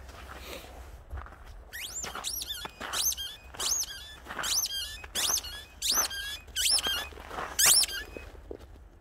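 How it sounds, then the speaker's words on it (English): Squeaky dog toys, a rubber bird and pig, squeal in a rapid series of about eight sharp, rising squeaks, close and loud, with faint pattering between. "They had a squeaky bird, and they got a squeaky pig"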